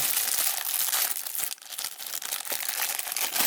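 Plastic wrapping on a gooseneck USB microphone crinkles and tears in close, busy bursts of rustling, with a short pause midway.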